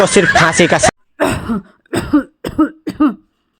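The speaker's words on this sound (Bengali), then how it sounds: "কি হয়েছে কাশতেছো কেন" A run of harsh coughs in separate bursts, close to the mic, the first long and rough, then several shorter hacking coughs with pauses between.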